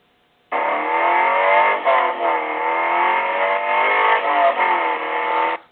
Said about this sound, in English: There's me driving a manual.